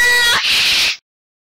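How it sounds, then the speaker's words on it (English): A small kitten lets out a single close, high-pitched meow that rises and then holds briefly before cutting off. "Oh, look at that cute little kitty."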